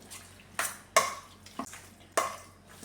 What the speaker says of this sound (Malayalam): ഇതെല്ലാം കൂടെ നന്നായിട്ടൊന്ന് മിക്സ് ചെയ്യാമേ